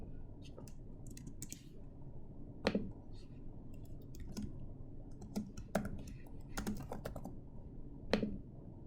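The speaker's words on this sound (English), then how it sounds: "This is just more typing" Typing on a computer keyboard comes through as quiet, close, irregular clacking keystrokes with a few sharper key hits standing out.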